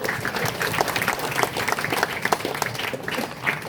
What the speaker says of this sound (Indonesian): Boleh tepuk tangannya untuk generasi muda Hindu